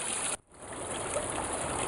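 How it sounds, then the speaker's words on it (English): Creek water pours steadily over the top of a frozen waterfall in winter, a close, continuous broadband rush that briefly drops out near the start and then resumes. "So this is the top of the waterfall."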